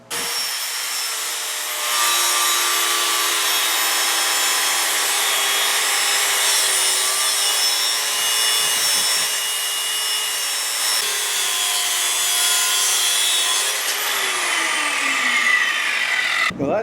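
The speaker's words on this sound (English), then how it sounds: "what I'm going to do is cut it off with the angle grinder again" An angle grinder cuts through a part of an Anyang power hammer with a steady, loud high-pitched whine and grinding rasp that holds for about fifteen seconds, then the tone sweeps downward as the disc spins down.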